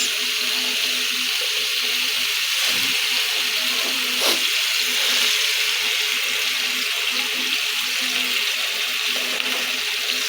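Onions and ginger frying in a pan for sweet and sour escabeche, giving off a steady, even sizzle that is loud and close and continues without a break.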